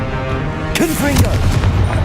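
A fire-spell blast from the Hogwarts Legacy game bursts out as a deep booming explosion, preceded by a shouted spell voice and trailing into rumbling debris and combat noise.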